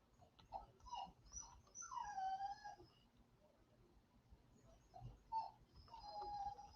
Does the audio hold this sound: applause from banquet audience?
no